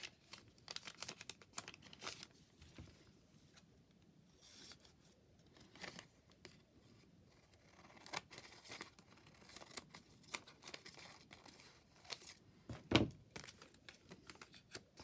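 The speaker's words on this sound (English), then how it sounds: "I'm going to cut this in half." Scissors cut a paper doily in half, a long series of close, soft snipping and crinkling paper sounds in uneven bursts, quiet and alone, with one sharper crunch near the end.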